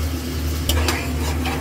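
Shrimp frying in a pan with onion and chili give a steady close sizzle, broken by a brief clatter of stirring just past the midpoint.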